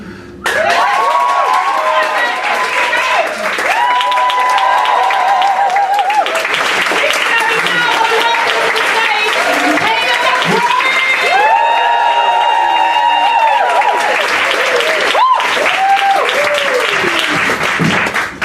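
A stand-up comedy crowd claps and cheers loudly for the full stretch, with whoops and shouts rising above the dense applause. Several sustained tonal voices ring over it in bursts.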